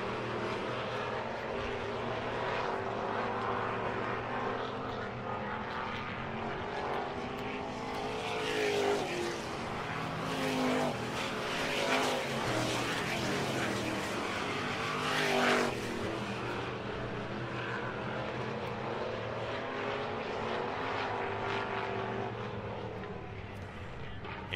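Late model dirt race cars lap a speedway track in a steady, loud engine roar that swells and fades as the cars pass, while an announcer talks over it.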